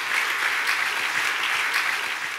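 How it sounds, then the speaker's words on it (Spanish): A church congregation gives a steady round of applause in praise. The dense, even clapping fills the room for a couple of seconds, then starts to taper. "Dale un buen aplauso de alabanza al Señor"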